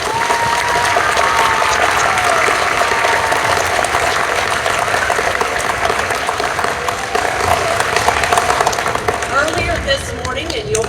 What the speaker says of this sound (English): So if you would please give them a round of applause.